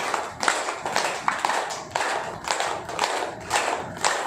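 One person claps their hands as a finger exercise with fingers spread, a series of sharp, close claps at an irregular pace, about a dozen in all, with no other sound.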